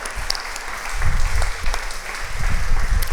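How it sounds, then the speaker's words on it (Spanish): A church congregation stands and claps loudly for God during a Spanish-language Sunday service, a dense, steady patter of many hands close by with a few louder bursts, no voices over it. "nos podemos poner de pie y darle un fuerte aplauso a nuestro buen Dios"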